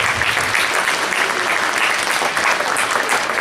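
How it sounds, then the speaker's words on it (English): Steady, dense applause from the audience at a school winter concert, filling the hall evenly at full strength throughout with no talking over it. "Give your parents a round of applause."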